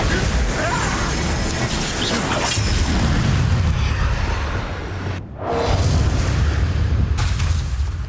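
A Bombarda explosion spell in Hogwarts Legacy, a loud continuous booming blast mixed with whooshing combat effects and game music, with a brief drop in the middle before the noise resumes.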